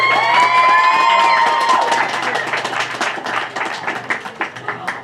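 Loud round of applause from an audience at an eighth grade recognition ceremony: thick clapping and some cheering over a voice at first, then thinning into scattered, separate claps.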